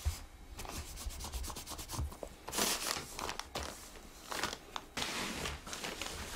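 A cloth rubs urushi lacquer across a wooden lacquerware piece in close, dry, scratchy strokes, a quick run of short swipes followed by longer rubbing passes, with no talking.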